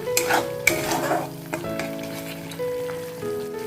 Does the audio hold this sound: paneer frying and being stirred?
yes